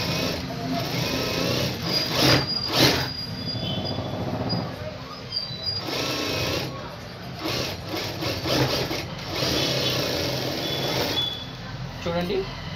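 A sewing machine stitches a blouse lining in quick, uneven bursts of whirring, with pauses between runs and a voice talking over much of it.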